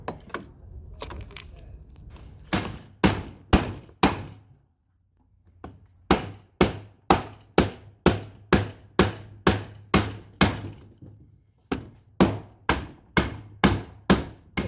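Loud, rhythmic hammer blows striking a bent aluminum frame, coming in quick regular bursts with a short pause between groups, close and sharp.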